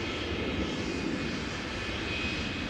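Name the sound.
SAS Airbus A320neo jet arriving from Oslo at Schiphol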